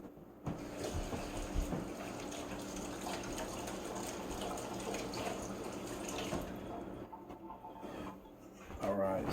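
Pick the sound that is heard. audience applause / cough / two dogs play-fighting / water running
water running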